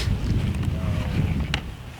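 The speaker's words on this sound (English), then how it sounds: "the wind is just pretty brutal" Strong, bitterly cold wind outdoors in Northern Illinois buffets the microphone, making close, continuous low rumbling gusts.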